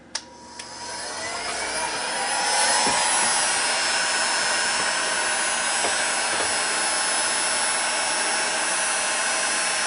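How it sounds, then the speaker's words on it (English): Adjustable-temperature heat gun set to 160°F blowing onto an oscillator clock circuit, clicking on and spooling up into a steady loud whooshing whine that holds evenly, close by with no talk. "I've got a temperature gun here which has a adjustable temperature control on it."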